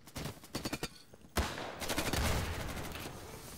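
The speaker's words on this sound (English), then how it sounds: "Who is shooting?" Gunfire in the Insurgency video game: a rapid run of sharp separate shots, then a sudden loud blast giving way to sustained dense firing and rumbling echo, fairly close and with no talk over it.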